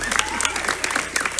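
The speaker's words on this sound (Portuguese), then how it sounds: "Salve de palmas ao Senhor, amém?" Congregation applauding at a youth church service, a dense, continuous clapping close by that fills the whole short moment, with sustained musical tones underneath.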